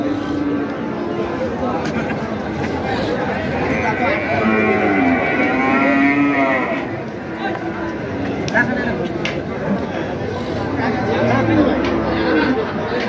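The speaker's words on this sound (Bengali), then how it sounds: "মাংসের গরু।" Meat bulls and cattle at the Ambari haat livestock market moo several times, with long lowing calls standing out over a steady hubbub of traders and buyers talking nearby.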